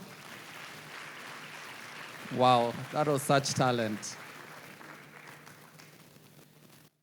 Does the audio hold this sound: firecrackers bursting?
no